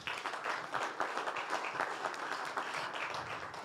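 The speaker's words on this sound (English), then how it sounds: "A round of applause for Dr. Jerome." Audience applause at a HealthTech investor summit in Africa, steady and moderately distant clapping from a seated crowd that carries on for several seconds.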